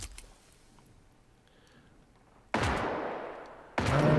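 Two loud gunshots ring out in the video game Generation Zero, about a second apart, each fading with a long echoing tail after quiet ambient background.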